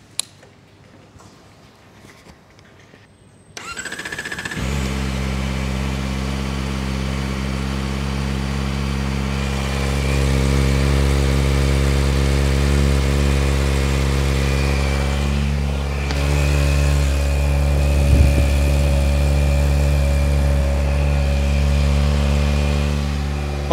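A Kawasaki ZX-4RR motorcycle engine cranks and fires after a quiet moment, then settles into a steady, deep, throaty idle that swells slightly partway through. It is loud and close, with no voices.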